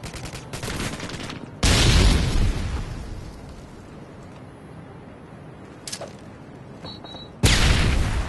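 Frag grenade explosions in Modern Warfare 2 multiplayer, two heavy booms several seconds apart, loud and near, with scattered gunfire and a quieter battlefield rumble between them.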